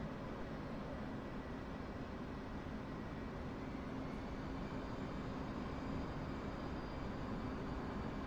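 A jet engine in the DCS flight simulator gives a loud, steady, dense roar that holds level with no breaks as the throttle is pushed up, and no voices are heard.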